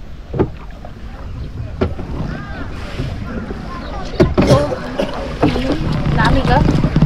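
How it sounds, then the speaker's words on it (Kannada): Shikara boat gliding on Dal Lake in Srinagar, Kashmir: wooden paddle strokes splash and knock in an uneven rhythm over steady wind and lapping water. "ಶಿಕಾರ ರೈಡ್ ಮಾಡ್ತಾ ಇದ್ದೀನಿ."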